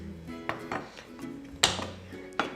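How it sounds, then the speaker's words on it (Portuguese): A cooking pot is set down to one side in a home kitchen, producing a few sharp metallic clunks and knocks over low background noise, with one louder clatter near the middle. "Vou colocar a panela aqui do lado."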